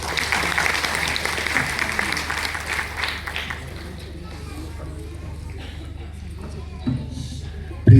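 Loud applause from an audience at a Belagavi comedy show for comedian Ravi Bhajantri, a dense clapping roar in the first few seconds that thins into scattered claps and crowd murmur, with a sharp knock at the end.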